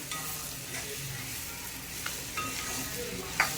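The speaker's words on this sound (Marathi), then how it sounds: "आता आपण त्याच्यात भेंडी घालूया आपली. तिला चांगले मिक्स करून घेऊया." Okra is stirred into a spice masala in a hot pan, giving a soft continuous sizzle with a few light scrapes, quiet and without talk.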